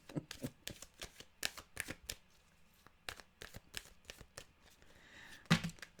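Tarot cards being shuffled by hand, a quick run of crisp riffling snaps and soft slides close to the microphone, pausing briefly before a sharper burst of card noise near the end; no talking.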